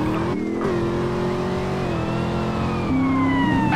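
Car engine revving and accelerating hard during a police pursuit in a video game, a loud sustained whine climbing through gear changes, with a siren wailing behind it.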